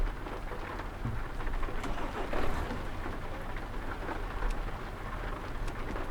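Steady rain falls in the Euro Truck Simulator 2 driving game, a continuous dense hiss with scattered drop patter and a low rumble underneath.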